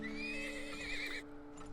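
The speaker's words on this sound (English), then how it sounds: "Get another horse." Horse in the video game Turmoil giving a loud, wavering whinny that lasts over a second and breaks off sharply, over a steady tonal game music hum.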